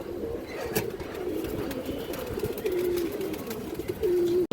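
A female pigeon at a pigeon sale gives soft, repeated coos over a low background murmur, nearby and steady, ending in a sharp handling noise.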